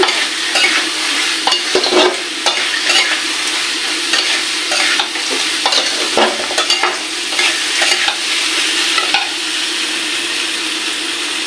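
Ground spices fry in a pan with a little water while a utensil stirs them, giving a steady close sizzle broken by repeated scraping strokes across the pan throughout.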